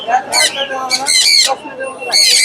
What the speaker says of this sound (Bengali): চমৎকার কিছু পাখি দেখতে পাচ্ছি এখানে